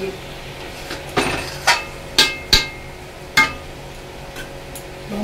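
Metal lid and utensil clinks on a pot of braising mutton in a home kitchen: several sharp, separate knocks and clanks spaced over a few seconds, close and fairly loud, over a faint background hum.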